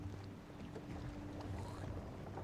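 A boat engine in the video game Dishonored drones steadily with a low hum mixed with wind-like rushing noise, quiet and continuous with no voices.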